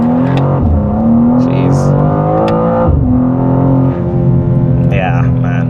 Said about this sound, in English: Even when we did the revs and stuff, some of the sound inside here is pumped in through the speakers, but it sounds accurate to what you hear on the outside.